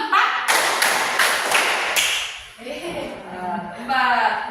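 In a classroom clap game, children clap about five crisp, evenly spaced times, loud and close. A voice then speaks as the clapping ends.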